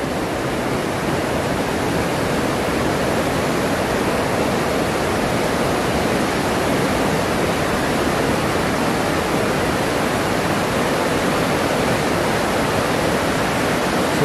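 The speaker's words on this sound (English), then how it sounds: "This is a marvellous looking dam." Water rushing over a dam swollen by recent rain beside a salmon leap, a loud, continuous, even roar of falling water that fills the whole stretch with no voices.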